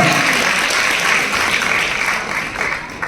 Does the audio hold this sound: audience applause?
yes